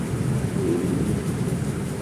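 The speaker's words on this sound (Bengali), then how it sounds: "এই তো বৃষ্টি পড়েই যাচ্ছে" Rain falls steadily on a rainy day, a dense even hiss with a low rolling rumble of thunder underneath, moderately loud and continuous.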